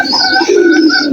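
A single close, loud pigeon coo, a smooth sustained throaty call from pigeons eating grain, with no other sounds over it.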